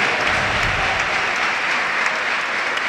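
Steady, dense applause from a bowling tournament crowd at a boys' youth semi-final match, loud and sustained throughout with no pauses and no speech over it.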